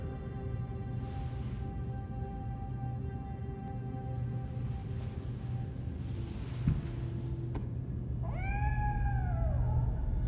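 In the video game Gotham Knights, a cat gives a single short meow near the end, rising then falling, heard over a steady low ambient hum and breezy outdoor noise.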